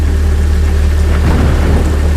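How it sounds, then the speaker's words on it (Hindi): Heavy rain pours down in a loud, dense roar with a deep low rumble underneath, steady and unbroken throughout. "धीरे धीरे बारिश तेज होती गई।"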